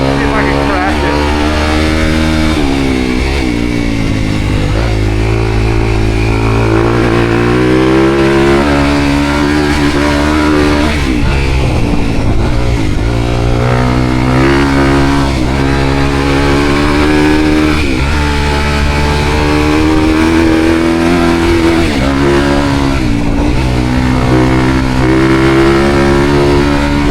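A dirt bike ridden fast on hot laps during adventure bike training, its engine droning and revving continuously, loud and close throughout with shifting pitch as the throttle rises and falls.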